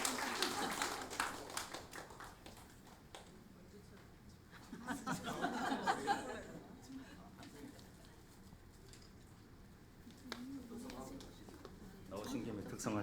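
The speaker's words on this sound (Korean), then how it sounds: "수료하신 10분께 힘찬 박수 부탁드리겠습니다" A church congregation at a Sunday worship service in Ulsan claps for ten graduates of a discipleship training class, with bursts of applause near the start and middle under and between speech.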